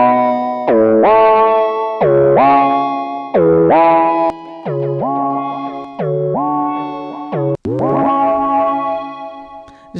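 Gritty, distorted synth phrases from u-he Satin, a string of swooping notes with a dirty saturated edge and echoing tails, loud and continuous without any voice.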